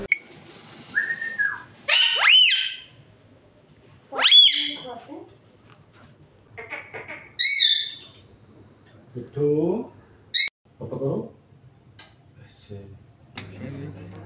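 Pet parrots kept at home by a man in Kashmir give loud, close, shrill whistled squawks that sweep upward in short bursts, separated by pauses, with a few lower, voice-like chattering sounds toward the end.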